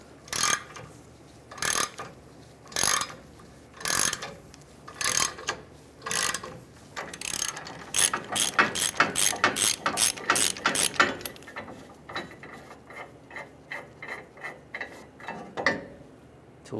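Torsion bar unloading tool ratcheting as it releases torsion bar tension: a series of sharp metallic clicks, first in spaced bursts, then a rapid run of quick clicks, then slower spaced clicks again, close and clear with no talk.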